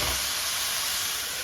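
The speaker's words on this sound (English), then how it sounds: "I turn the heat down a bit and cover them tightly so that they partly steam and partly braise" Spicy greens steam and braise in a tightly covered pan over lowered heat, giving a steady, close hiss and soft sizzle that holds evenly throughout with no voices.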